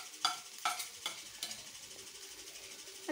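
Mashed potatoes sautéed and stirred in a pan for potato kurma, giving faint scraping and soft sizzling with a few sharper spoon-on-pan clicks, quiet and close with no talking.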